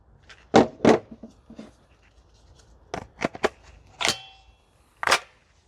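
A VFC UMP45 airsoft gun fires BBs on an outdoor range, giving several sharp, separate snapping shots at irregular intervals. There are two close together early on, a quick cluster in the middle, and single shots after that, with no talking.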